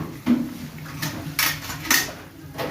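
A spoon clinks and scrapes against a pot while winter-vegetable fish curry is stirred, four or five short distinct metallic knocks spaced about half a second apart, close and clear.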